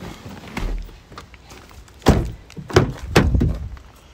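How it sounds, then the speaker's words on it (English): Bonnet release on a 2016 Nissan Navara NP300 pickup being pulled: a soft thunk followed by a few sharper clunks and knocks, close by in a quiet cabin. "Pop the bonnet while I'm here, which is just down there."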